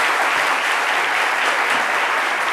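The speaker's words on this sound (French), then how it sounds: "Merci de nous applaudir." Audience applauding at a French medal ceremony, steady dense clapping throughout, close and loud, with no voices over it.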